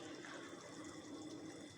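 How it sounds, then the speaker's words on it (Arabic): Water pours steadily into a pan of onions, soy sauce, peppers and pomegranate molasses while making kebab halla, a soft continuous splashing trickle that runs faintly and evenly throughout without any talk. "انا دلوقتي حطيت ميه تاني"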